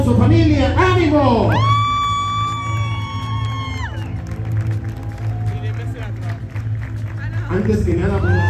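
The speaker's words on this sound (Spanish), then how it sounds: "Venga el aplauso, familia, ánimo." Guests at a sweet sixteen party clap, whoop and cheer as a crowd, with a loud amplified announcer's voice calling out over the applause.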